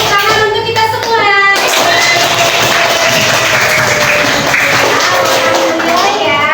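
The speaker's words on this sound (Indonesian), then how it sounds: "Tepuk tangan untuk kita semua." A Qur'an study classroom bursts into group applause from students, dense continuous clapping building after a short stretch of children's voices and carrying on steadily with chatter mixed in.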